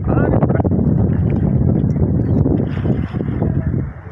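A small boat's steady low rumble crossing a river, with wind buffeting the microphone throughout.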